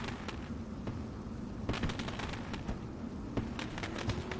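Fireworks crackle and pop at the Knoxville dirt race track during an intermission, a steady rumble dotted with sharp bursts, heard from a distance with no talking over it.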